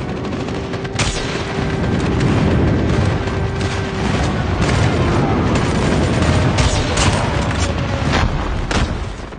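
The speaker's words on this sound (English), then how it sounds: "Friendly airstrike incoming." A friendly airstrike in the video game Call of Duty sets off a steady barrage of booms and rapid gunfire, loud and continuous across the whole stretch, with no talking.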